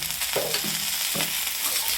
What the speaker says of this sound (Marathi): आता ही तव्यामध्ये भाजत आहे